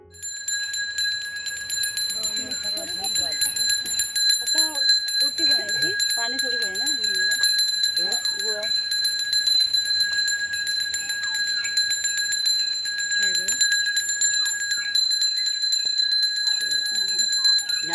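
A bell rings steadily and continuously in a bright, sustained tone during a Gauri arrival ritual in Konkan, carrying on throughout while people talk and call out underneath.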